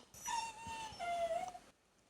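A dog whines in a long, high, wavering cry that bends down in pitch through two drawn-out moans, faint and fairly close, then stops abruptly, with no talk.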